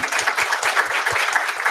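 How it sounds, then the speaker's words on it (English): An audience applauds after a speaker on autism and technology is thanked, a steady wash of many hands clapping close by with a few sharper claps, continuous for the whole stretch. "a big round of applause to Dave and Cozy, please."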